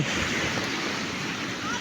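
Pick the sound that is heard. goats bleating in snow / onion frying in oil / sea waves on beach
sea waves on beach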